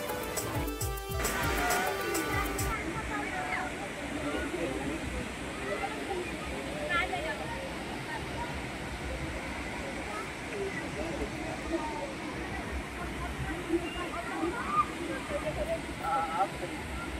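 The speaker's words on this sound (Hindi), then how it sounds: "देख सकते हैं पूरा झरना का नज़ारा, देख सकते हैं पूरा एकदम नज़ारा, होंडू फॉल का नज़ारा" Hundru Falls near Ranchi rushes as a steady, loud, broadband roar of falling water that continues without a break, with a brief clatter at the start.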